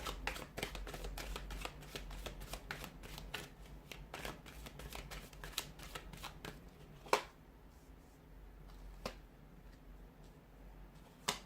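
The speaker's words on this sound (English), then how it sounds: "we'll give the cards a shuffle" Cards are shuffled in quick, crisp riffling flicks, close and fairly quiet, with a few sharper taps between runs.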